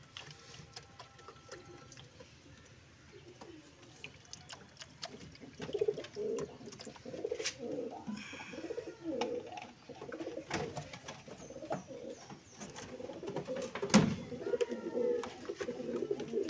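Male pigeons cooing in soft, repeated throaty bursts that build toward the end of a loft, with faint water and background rustle around them.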